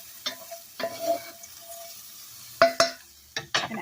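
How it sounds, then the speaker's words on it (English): Browned sausage in a skillet, with faint frying under intermittent clinks and stirring scrapes of a utensil against the pan, close by. "It's still sizzling."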